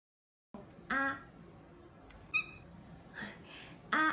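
A cat meows a few times at close range, short separate calls spaced out over a quiet, low background hum.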